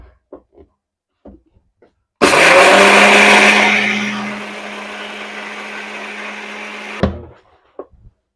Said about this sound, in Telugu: ఇదైతే మిక్సీ పట్టేసేసుకుంటాను మినపప్పు